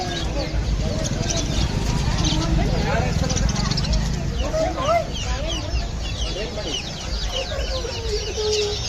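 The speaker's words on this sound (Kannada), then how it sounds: "ಕೋಳಿ ಮರಿನ ಅದು" Chickens cluck and chicks cheep repeatedly at the Sirsi Jatre fair in 2026, short chirpy calls scattered through the crowd noise while people talk nearby.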